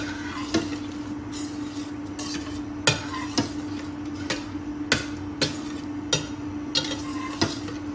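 A chicken mixture for paupiettes is stirred in a saucepan, with a soft sizzle running throughout and a series of sharp knocks of the utensil against the pan at irregular intervals.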